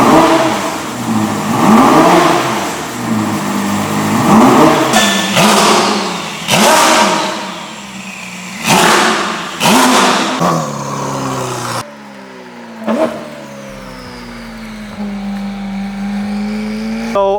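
A Ferrari SF90 with a Novitec exhaust roars past several times, its exhaust rising to a loud blare and fading as each flyby sweeps close, with engine revving between passes.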